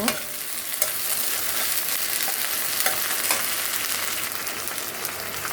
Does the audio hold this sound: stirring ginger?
yes